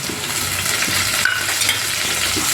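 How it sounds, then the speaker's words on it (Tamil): Onion, ginger and garlic sizzle in hot oil while a spoon stirs and scrapes the pan in short, close strokes, with no talk. "இஞ்சி பூண்டு போட்டு வதக்கலாம்"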